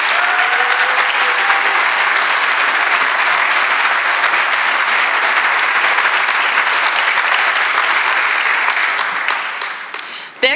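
A commencement audience at a 2017 university graduation applauds the graduating class, sustained dense clapping close and loud throughout, thinning slightly at the very end.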